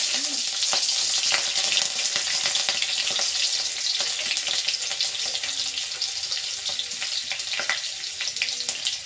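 Chilies spit and crackle as they fry in hot oil, giving a loud, dense sizzle with sharp pops that gradually settles a little.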